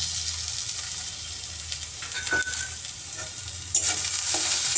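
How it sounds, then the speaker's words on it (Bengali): Mushrooms stir-fried with chopped onion, chili, onion paste and cumin paste, giving a steady close sizzle with scraping stirs and a brief louder clatter near the end. "এর মশলাগুলোকে সব ভালোভাবে মিশিয়ে নেব মাশরুমটার সঙ্গে"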